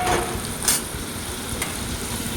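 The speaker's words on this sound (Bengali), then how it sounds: "মাংসর আলুটা ভালো করে ভেজে নিচ্ছি।" Potato pieces fry in hot oil for a meat dish, giving a steady, close sizzle with a couple of brief scraping stirs and no voices.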